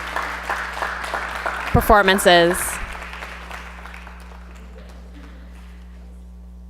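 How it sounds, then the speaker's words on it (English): An audience at a social justice forum plenary claps, the applause thinning out and fading as a speaker's amplified voice talks over it. "Let's give another round of applause for that amazing,"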